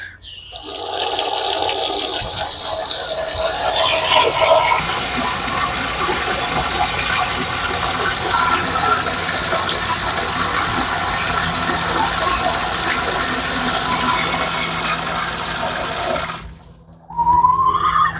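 Water runs steadily into animal waterers on a summer homestead, a continuous loud gushing fill lasting about sixteen seconds before cutting off abruptly.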